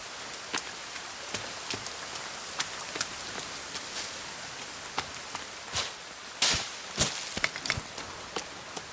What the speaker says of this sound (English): It's not raining as much